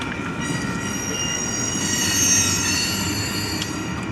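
A Union Pacific manifest freight train rolls off the Harrisburg subdivision into the south yard, wheels squealing in sustained high tones over a steady, loud rumble of railcars passing close by.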